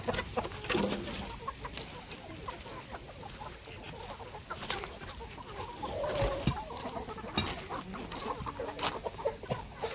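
Farm chickens cluck steadily in a flock, nearby and fairly loud, with overlapping short calls and scattered squawks against outdoor background noise. No one talks.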